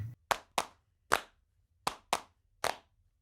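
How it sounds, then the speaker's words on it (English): Thick, cupped-hand claps recorded for a Logic Pro session, about one to five feet from the microphone: six distinct, fairly loud single claps in an irregular rhythm, with short gaps between them and no voices. "And then we did a couple thick,"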